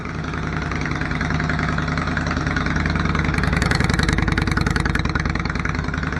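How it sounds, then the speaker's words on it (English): A Yamaha XV 535 Virago motorcycle engine runs at a steady idle, a loud, continuous and dense rumble close by with a slight rise in intensity toward the middle and no speech. "So I will start again and let it warm up a little bit."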